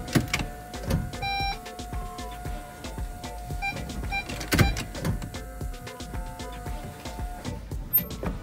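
Brake vacuum pump whirring faintly inside a Renault Kangoo Z.E. electric car with a brake fault, a steady electric hum with small clicks and ticks, quiet and close.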